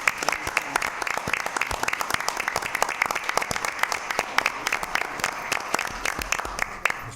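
A school board meeting audience claps steadily for the full stretch, dense overlapping hand claps from a roomful of people honoring a long-serving staff member, with no talk over it.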